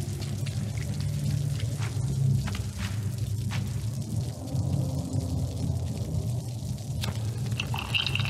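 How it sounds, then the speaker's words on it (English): Steady rain pattering on a raincoat in the video game Little Nightmares, a continuous dense patter with a low rumbling bed beneath, no voices. "The rain even sounds like it sounds when it's on a raincoat."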